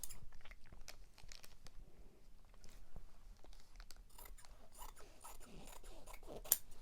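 Scissors snip through a long strip of fabric while sewing a seatbelt sleeping pillow, with a run of close, crisp cuts and rustling cloth that come one after another with no talking.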